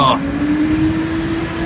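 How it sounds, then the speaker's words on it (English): A garbage truck passes outside with a low engine hum and a steady droning tone rising slightly, heard over a person speaking indoors. "Got a garbage truck going by."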